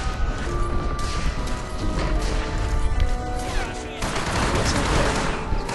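Dense gunfire fills a fight in the World War II shooter Hour of Victory, with rapid overlapping shots, crashes and impacts rattling on continuously and loudly throughout.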